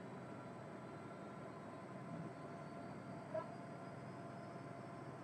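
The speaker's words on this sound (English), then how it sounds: "we are making our way out of Kansas City on this UP Stack Train with UP 1989, the Denver and Rio Grande Heritage locomotive" Union Pacific stack train led by locomotive UP 1989, a Denver and Rio Grande heritage unit, rolling out of Kansas City in Train Simulator 2021; a steady low rumble with a faint hum runs throughout, with one brief click near the end.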